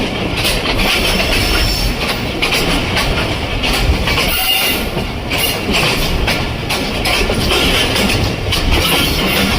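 The Pakistan Railways Lasani Express rumbles steadily as it approaches a station, a loud, continuous roar of wheels on rails with a clickety rhythm and occasional squeals, heard from on board.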